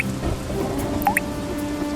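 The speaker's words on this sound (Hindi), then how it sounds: "पूरी छत से पानी टपक रहा है।" Water dripping from a hut roof during heavy rain in an animated scene, a couple of bright distinct drip plinks over a steady soft background wash.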